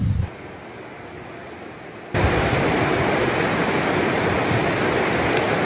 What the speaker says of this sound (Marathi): इकडे बघा कोलटेंबे वॉटरफॉल आहे